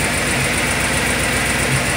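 Idling car engine with an exhaust header leak, heard up close through a Steelman EngineEar 65001 stethoscope: a steady, loud, continuous rumble with fine rapid ticking pulses throughout, no voices.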